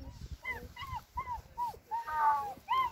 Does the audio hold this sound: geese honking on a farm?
no